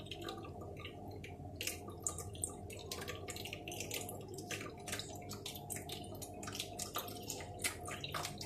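Falsa juice strains and trickles down as it is stirred with a spoon, giving a soft continuous pour with faint splashing drips running steadily throughout, fairly quiet and close.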